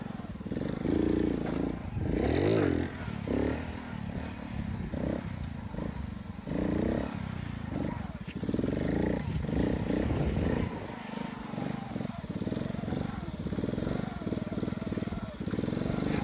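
A Honda CD70 motorcycle revs hard in repeated bursts during wheelie practice, loud nearby engine rasps rising and falling with clattering in between, while a voice talks at times.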